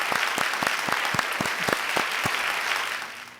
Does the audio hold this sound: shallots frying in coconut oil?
no